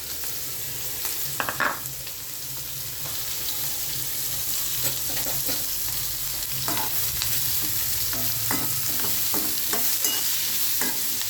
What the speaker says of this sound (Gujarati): આપણે રાઈનો વઘાર કર્યો છે, એમાં હિંગ નાખી હવે આપણે વઘારી દઈશું.